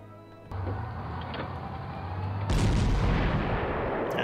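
A big anti-tank cannon fires in the World War II strategy game Panzer Corps, a sharp booming shot followed by a second heavier blast with a rumbling tail, loud and alone over a faint low hum.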